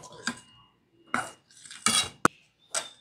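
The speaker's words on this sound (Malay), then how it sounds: "Ini marination dia kita bagi gaul-gaul bagi dia gaul hingga dia betul-betul rata" Chicken marinade with garlic, salt, pepper and water is stirred and tossed in a bowl, giving a few separate scraping, clinking bursts of utensil against the container with quiet gaps between.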